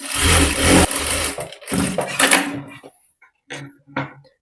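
A sewing machine runs in bursts while stitching an invisible zip into a blouse, its steady whirring loud and close for the first stretch, then stopping and starting in short spurts with quiet gaps between.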